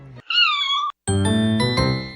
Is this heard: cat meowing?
yes